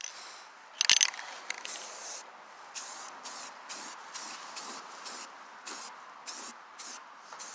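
Spray paint hissing onto a scrap metal jack-o'-lantern, one loud opening burst followed by a run of short, evenly spaced close sprays separated by brief pauses.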